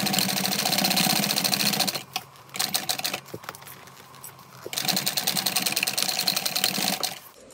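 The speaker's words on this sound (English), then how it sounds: "So there's a couple of parts that I have to come back and sew because I completely missed the basting stitch." A sewing machine stitches a mini backpack in two steady, rapid runs, close and fairly loud, separated by a quieter pause of a few seconds with light handling sounds.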